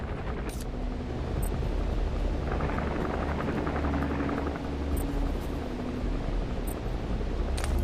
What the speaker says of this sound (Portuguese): Tá vendo um helicóptero